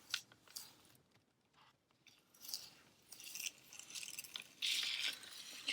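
Transfer tape peeled off vinyl lettering stuck on an old upcycled sign: close, quiet crackly tearing and sticky rasps in several bursts, louder and more continuous toward the end.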